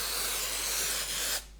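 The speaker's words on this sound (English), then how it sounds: "because this is a double contact adhesive, we need to spray the Dacron too" Double contact adhesive sprays onto Dacron batting for a cushion, a close continuous aerosol hiss that cuts off abruptly near the end.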